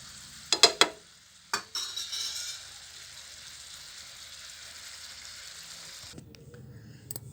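Tomatoes stirred with salt in a cooking pan: a few sharp clinks of the utensil at first, then a steady soft sizzling hiss that carries on for several seconds before fading to a quiet, close background.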